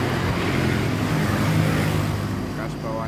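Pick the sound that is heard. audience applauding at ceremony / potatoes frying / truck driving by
truck driving by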